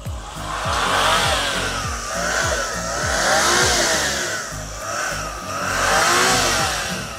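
A mini van engine runs close by with repeated rev swells rising and falling every couple of seconds, a loud mechanical drone with no talk over it.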